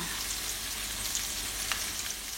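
Catfish pieces frying in hot oil, dusted with flour, give a steady close crackling sizzle with scattered small pops throughout.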